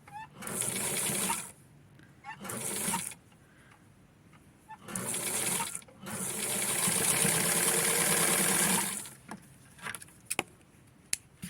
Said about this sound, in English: So I am sewing this as close as possible.